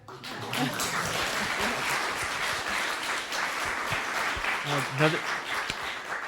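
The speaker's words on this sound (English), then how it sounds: "I feel like that answer merits a round of applause." An audience applauds at a book talk with an author, sustained broad clapping from a crowd that holds steady, with a brief voice or two surfacing near the end.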